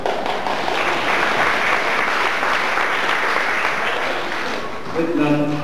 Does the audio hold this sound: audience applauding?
yes